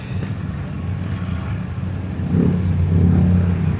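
Road traffic in San Fernando, La Union hums close by, with a steady low engine drone that swells louder as a nearby vehicle revs and pulls up alongside, no voices over it.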